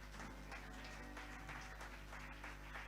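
A church congregation applauds and cheers in acclaim of God during a French-language service, a steady wash of clapping and crowd noise sustained throughout at a faint, distant level.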